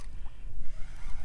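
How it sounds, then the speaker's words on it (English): A fishing boat moves across open water behind the camera, giving a faint, continuous low rumble mixed with wind and water wash, with no talking. "there's a regular fishing boat behind me"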